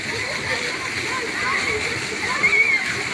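A park fountain splashes water steadily in July, a continuous broad rushing spray with a brief louder surge near the end.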